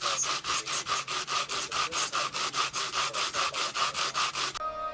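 Sanding 3D-printed flex resin action figure parts: a fast, even back-and-forth scraping rhythm of about twenty strokes, close and harsh, stopping abruptly at the end.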